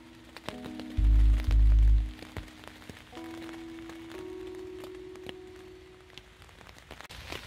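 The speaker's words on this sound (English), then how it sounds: "Can't beat the sound of that rain on the tent." Rain pattering on a Naturehike Opalus 2 tent during a camping night, a steady soft patter with occasional sharper drops, joined by low humming tones and a couple of loud close thumps near the start.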